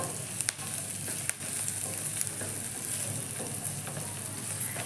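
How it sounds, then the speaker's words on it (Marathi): Onions frying in a pan for a raw potato snack, a continuous bright sizzle broken by several sharp spatula clicks and scrapes, close-up and steady, with no voices. "कांदा पण भाजून घ्यायचा पण जास्त भाजायचं नाही"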